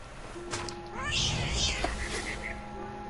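A cat meows in The Remains of Edith Finch: a single rising-and-falling meow over soft ambient game sound, with faint bird chirps around it and a voice speaking.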